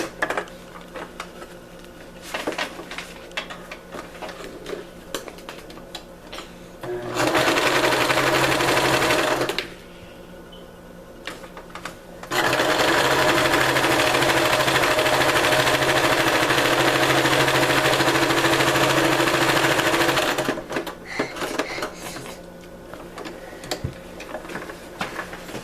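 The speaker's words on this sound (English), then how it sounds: "I'm going to sew that on just like that" A sewing machine stitches fabric scraps in two sustained bursts, a short run then a longer one, with quiet handling noises between and around them.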